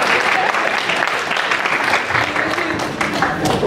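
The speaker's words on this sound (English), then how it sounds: "Y'all can clap." Audience applause at an opera recital, steady clapping from a seated crowd with some murmuring voices mixed in, fairly loud and continuous.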